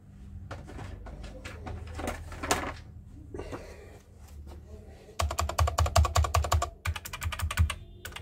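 Keys clack on a Gamepower Starscream 60M optical RGB mechanical gaming keyboard, first as scattered taps and then as a fast, loud burst of dense, close typing.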